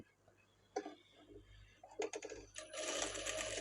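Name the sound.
sewing machine stitching a blouse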